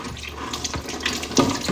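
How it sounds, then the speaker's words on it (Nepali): Water pours into a 10-litre bucket for a short, close, splashing stream that lasts about two seconds, with no voices. "यो बाल्टिनमा यसो गरी पानी हाल्नुस्"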